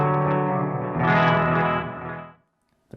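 Guitar played through a Red Panda Context reverb pedal set fully wet, a sustained chord swelling into a lush, washed-out reverb tail before cutting to silence with a brief faint tap at the end.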